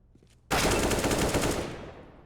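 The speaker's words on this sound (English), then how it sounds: "Mistim has landed 2 headshots with a USP on Catwalk." USP pistol fire in Counter-Strike on the Mirage map during an esports match. After a quiet start, a sudden dense burst of rapid shots erupts, loud and close, then slowly tails off.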